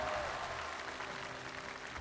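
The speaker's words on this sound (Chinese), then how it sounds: "让我们再一次用热烈的掌声感谢4位演奏家的精彩演出" Applause from an audience at a televised gala for four instrumental performers: continuous, moderately faint clapping from a large hall crowd, steady and unbroken for the whole stretch.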